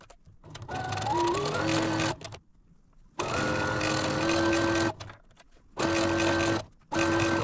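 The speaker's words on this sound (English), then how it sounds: "I'm going to go sew this one together" Electric sewing machine stitching a quilt block together, running in three bursts of steady whirring hum that rise and settle in pitch, separated by short pauses.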